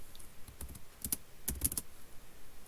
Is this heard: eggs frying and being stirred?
no